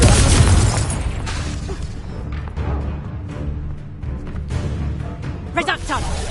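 Fire spell explosions in the game Hogwarts Legacy: a heavy boom at the start, then a string of bursts and crackles layered over game effects and a voice calling out spell names.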